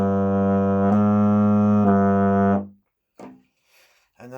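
A euphonium plays a tune: a long, loud, low sustained tone repeated in three steady pulses, then cutting off, followed by a few brief faint sounds.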